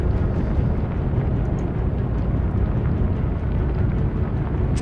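A heavy explosion on a destroyer during a naval battle in the Atlantic Fleet video game, heard as a loud, sustained low rumbling roar that fills the whole moment without any talk.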